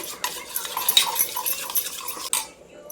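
A spoon clinks and scrapes steadily against a bowl while salt is stirred into yogurt for raita, a close run of small metallic taps and swishes with no talking.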